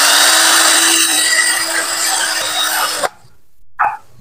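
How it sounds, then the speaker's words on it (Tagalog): Steady abrasive scraping of 1000-grit sandpaper rubbing against an electric fan's metal shaft, continuous for about three seconds, then stopping, followed by a brief clack. "Itong kabila ay padaanan din natin ng liha."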